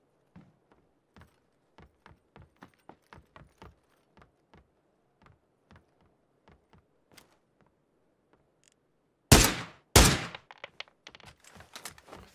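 Two loud, sharp gunshots ring out close together near the end during a headshot in the battle royale game PUBG, following a run of soft, evenly spaced footstep-like clicks.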